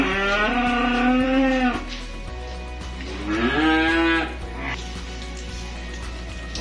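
Cattle at a calf trading yard in Kediri, East Java, giving two long, loud moos a few seconds apart, close by, with quieter background noise between calls.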